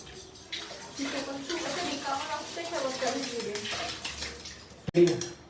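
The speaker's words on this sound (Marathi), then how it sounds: "मी हँड वॉश करून देते" Hands are washed under a running kitchen tap, a close, continuous splash and gush of water lasting a few seconds with faint voices in the background.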